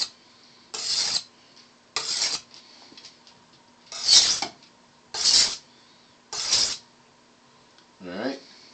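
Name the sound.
knife being sharpened on a medium grade sharpening stone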